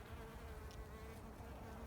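Bees working freshly opened summer garden flowers, their continuous buzzing hum recorded up close but faint, steady and unbroken with no voices.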